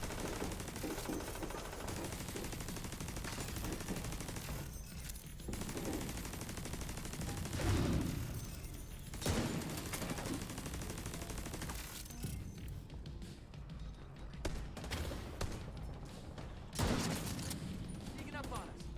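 Intermittent gunfire in a firefight in The Division 2 video game, set at an air and space museum, comes in scattered bursts and sharp cracks over steady background noise, with someone talking throughout.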